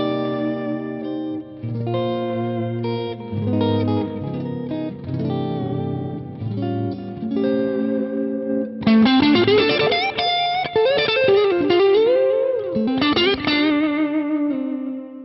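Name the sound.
two Electro-Harmonix Deluxe Memory Man echoes on guitar, different delay times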